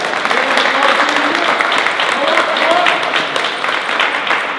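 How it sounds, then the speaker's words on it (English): Audience applause at a congressional special announcement, a loud sustained burst of clapping with crowd murmur and a few voices mixed in throughout. "So round of applause for that."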